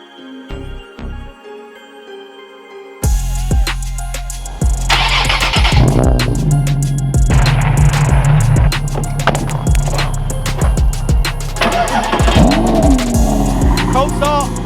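After a few seconds of quiet, a Porsche 718 GTS 4.0 engine bursts to life in a cold start with a loud roar and sharp revs, then burbles unevenly while a voice speaks over it.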